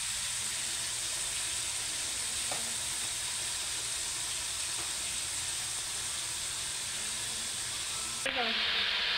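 Pork steak fries in a pan with a steady, loud sizzle and hiss that stays constant throughout, broken only by a few faint clinks and a brief stir near the end.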